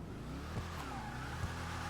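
A Dodge Challenger Hellcat, modified as a Gauntlet Hellfire in the GTA video game, idles on light throttle with a steady, low, rumbling engine drone and only slight swells, no voice over it.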